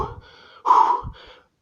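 A person exercising exhales forcefully during push-ups: one loud, gasping breath out rises sharply in the middle, with softer breathing before and after, close to the listener.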